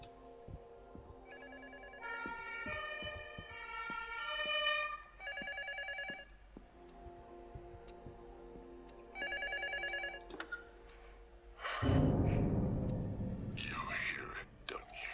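A telephone rings in repeated electronic bursts in the psychological horror game Luto, with short pauses between rings, followed by a loud rustling, crackling noise; a voice talks quietly in the background.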